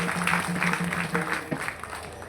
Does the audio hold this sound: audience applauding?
yes